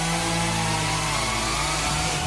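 A chainsaw engine runs steadily at high revs, a loud continuous buzzing drone with no pauses, close by and alone.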